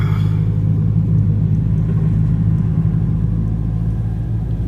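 A car drives on a snowy road during a night-time blizzard, giving off a loud, steady low engine rumble and road drone with no talk.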